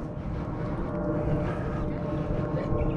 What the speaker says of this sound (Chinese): 飞机在飞，那是 JFK 机场的飞机